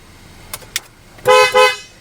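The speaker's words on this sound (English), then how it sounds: "So you have the horn," Two short, loud honks from a police car's horn, preceded by a couple of faint clicks, close by.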